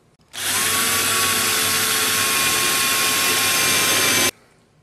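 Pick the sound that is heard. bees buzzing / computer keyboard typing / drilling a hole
drilling a hole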